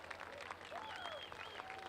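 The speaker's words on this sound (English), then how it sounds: "So how about a round of applause for Terry McCarl, your Dash winner tonight." Faint, distant crowd applause at a sprint car race, a steady patter of clapping lasting under two seconds.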